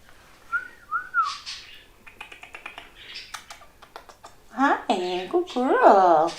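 A person whistles a few short, rising notes early on amid a relaxed adult paint night, with typing-like clicks, background chatter and voices becoming louder and more animated toward the end.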